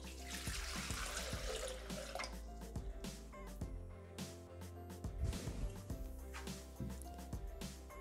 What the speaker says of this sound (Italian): mettendo all'interno del boccale l'acqua